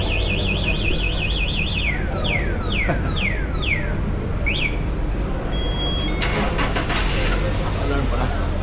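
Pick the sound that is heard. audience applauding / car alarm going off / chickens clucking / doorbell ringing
car alarm going off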